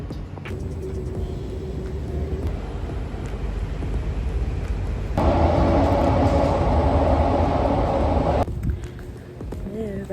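Singapore MRT metro train rumbling steadily close by, with a louder rushing surge in the middle as it passes before easing back to a lower drone.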